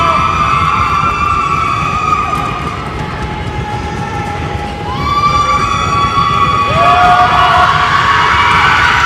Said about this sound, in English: Home crowd, plenty of noise in this loud gymnasium